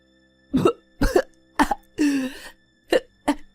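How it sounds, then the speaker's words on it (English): A woman's run of harsh, close coughs in quick bursts, six or so, with one longer strained wheezy cough in the middle, no speech. "My mother-in-law continued to cough and screamed."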